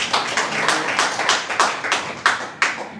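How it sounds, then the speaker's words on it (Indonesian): A church congregation claps in sharp, distinct beats at a steady rhythm, roughly three claps per second, loud and close with a slight accent on some strokes. "Berikan tepuk tangan buat Tuhan"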